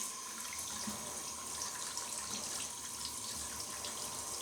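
Hot water runs steadily from a tap onto a person's knee, a continuous close splashing hiss with no talk.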